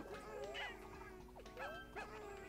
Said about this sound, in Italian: C'è il cane!